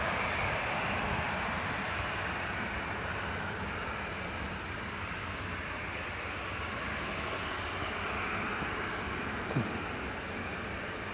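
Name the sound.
Emirates airliner landing on runway 07 at Newcastle Airport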